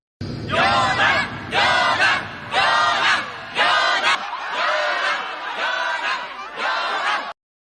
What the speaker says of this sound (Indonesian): langsung melakukan dunk, yang disambut sorakan gemuruh dari para pendukung Ryonan